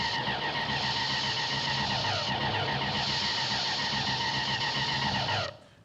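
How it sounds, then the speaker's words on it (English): Martian weapon firing effect from a War of the Worlds battle scene, a sustained harsh, buzzing metallic screech with layered tones holding steady for several seconds before cutting off abruptly, loud and without voices. "this is a composite battle from War of the Worlds"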